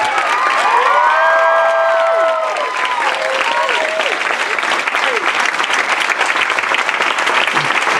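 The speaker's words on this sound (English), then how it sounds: "Let's give her a big round of applause." A crowd claps loudly with cheers and whoops, and the sustained applause fills the whole stretch.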